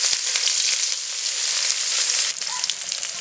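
Chopped onion frying in hot oil, a steady close sizzle with small crackles that dips slightly near the end, no one speaking.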